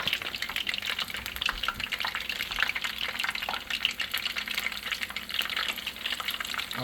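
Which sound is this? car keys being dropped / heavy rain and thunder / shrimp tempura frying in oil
shrimp tempura frying in oil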